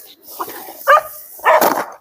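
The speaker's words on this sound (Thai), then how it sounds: "มันเห่าใครเนี่ย" A dog barks in a few short, loud, close bursts, three sharp yaps spaced across a couple of seconds, with a little background noise between them.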